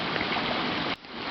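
Steady rush of lake water pouring through a spillover, a dense continuous wash that briefly dips near the end before returning at full strength, heard close and alone.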